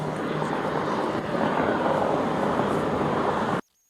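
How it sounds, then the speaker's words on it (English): Loud, steady roaring hum from a TV's cooling fan, constant and broadband, running close by before cutting off abruptly near the end. "That's the loudest fan for a TV I ever heard."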